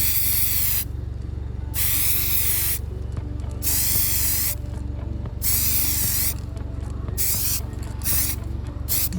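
A can of rubber spray paint hisses in short bursts while coating a car emblem, with several sprays of about a second each separated by brief pauses, heard close up.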